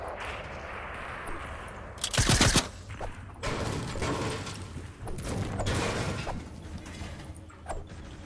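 Gunfire in the video game Fortnite, a burst of shots around two seconds in, then scattered cracks and rattling shots at a moderate distance against steady game ambience, with no talk.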